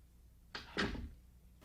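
A door closes once with a short soft scrape followed by a quick thud, faint and nearby in an otherwise quiet room.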